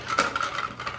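Ice cubes clatter and clink into a glass or shaker while a cucumber jalapeño margarita is made at home, a brief, close burst of bright rattling with no talking.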